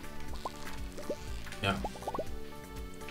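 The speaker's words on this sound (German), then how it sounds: "Und du gießt erstmal." Watering can sprinkling crops in Stardew Valley: a string of quick watery drips and plops in small clusters over soft background music, with a brief spoken word in the middle.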